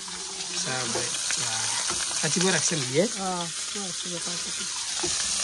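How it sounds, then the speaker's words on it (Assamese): Fish sizzles and spits in a hot frying pan in a home kitchen, a steady frying hiss running throughout while a person talks clearly over it. "এইফালে মাদাৰে মাছ ভাজি আছে"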